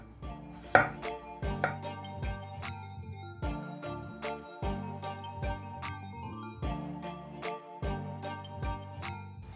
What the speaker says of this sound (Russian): Картошку буду нарезать тоненькими пластиночками.